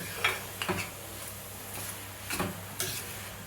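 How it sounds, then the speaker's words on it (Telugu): Carrot halwa with khoa is stirred in a pan, giving quiet, scattered scraping strokes and soft sizzle, a few spoon scrapes standing out against a low background. "కోవా వేసిన తర్వాత ఇలాగా ఒక పది నిమిషాలు కలుపుతూనే ఉండండి"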